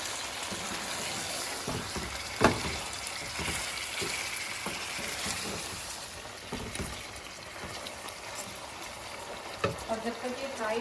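Chicken fries in a pan with ginger garlic paste for a highway-style karahi, a steady sizzle with occasional stirring scrapes and clinks and a few louder spatters, close and constant throughout.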